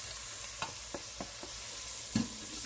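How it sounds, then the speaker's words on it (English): Ground turkey with spices sizzles steadily in a hot pan for chili, with several sharp scraping taps of a stirring utensil spaced through it and one firmer knock near the end; no voices. "I'm going to go ahead and put my ground turkey in"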